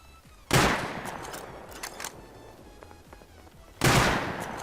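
Two sharp gunshot bursts ring out a few seconds apart in the video game Rust, each loud and sudden with a decaying tail, separated by quieter game ambience.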